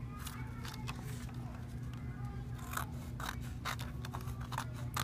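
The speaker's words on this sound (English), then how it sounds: "take a pair of scissors and you're going to cut half inch strips to 1 inch strips" Scissors cutting strips for a weaving demonstration, with a series of faint crisp snips and crunching cuts at an uneven pace, quiet and close over a steady low hum.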